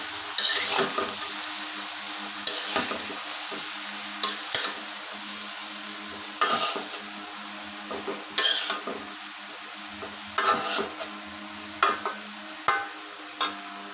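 Snake gourd and egg stirred in a frying pan, a steady close sizzle broken by repeated scraping stirs in an uneven rhythm, with no voices.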